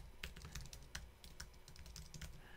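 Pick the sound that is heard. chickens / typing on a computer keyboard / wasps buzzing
typing on a computer keyboard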